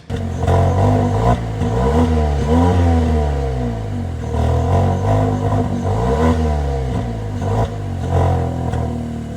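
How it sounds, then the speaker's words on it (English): GAC Emzoom R-Style with twin real exhaust tips and an actuator-driven valve, revved repeatedly in loud, near surges, the engine note rising and falling several times with a throaty exhaust tone and no talking. "you get these twin tips here, which are real. There is an actuator in there, and the valve can open and close, and you can hear it"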